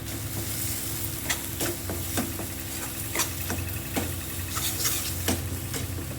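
Cumin, turmeric and green chillies fry steadily in a pan, a quiet continuous sizzle punctuated by regular soft taps and scrapes as the tempering is stirred.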